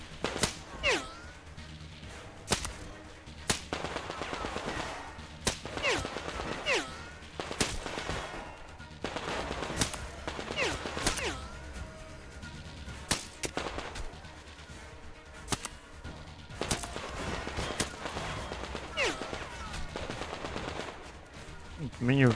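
Gunfire in the video game Metro Exodus: sharp shots and rapid bursts crack repeatedly and loudly, sometimes fired from the hip, with brief pauses between volleys across the whole stretch.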